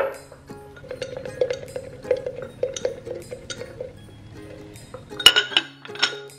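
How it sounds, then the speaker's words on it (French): A small whisk mixes in a bowl during home cooking, rapid light clinks and scrapes against the sides, fairly close, followed by a louder clatter near the end; no one speaks. "Pour mélanger, je prends mon petit fouet magique, ma cuillère magique."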